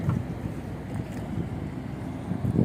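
Motor boat running on the Padma river, a steady low engine drone with wind buffeting the microphone and water noise throughout, no talk.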